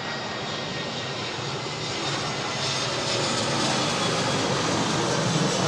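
Aer Lingus jet airliner at Manchester Airport, a loud, sustained close engine roar with a broad rushing hiss that swells slightly toward the end, with no voices.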